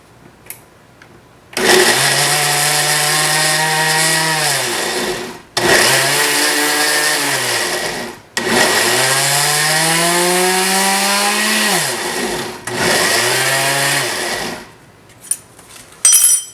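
A blender whirs loudly on cooked chiles with water, running in four long bursts separated by brief pauses, each burst starting with a rising whine and ending as the motor winds down.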